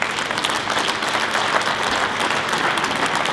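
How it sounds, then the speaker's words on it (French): An audience at a municipal New Year's greetings ceremony applauds the town's staff, a dense, steady wash of many hands clapping at close range that holds evenly throughout. "Je vous demande de les applaudir également"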